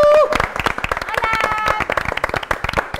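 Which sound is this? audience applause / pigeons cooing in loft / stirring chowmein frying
audience applause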